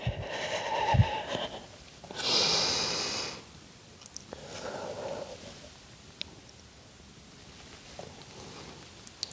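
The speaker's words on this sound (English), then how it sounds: "nice big breaths as you do it" A person doing a Pilates cat stretch for tight hip flexors breathes deeply, with a few audible inhales and exhales, sniffs and soft rustles close to the microphone, fading quieter toward the end, no talking.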